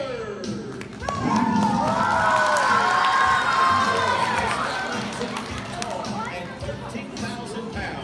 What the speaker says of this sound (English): Let's hear your most ferocious roar for Rory McFiercely III.